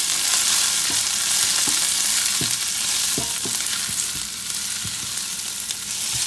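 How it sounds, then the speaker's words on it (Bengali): Onions frying in a pan for shrimp Alfredo pasta, a steady close sizzle with scattered clicks and scrapes of a utensil stirring, no voices. "এই দেখুন আমার পেঁয়াজ ভাজা হয়ে গেল"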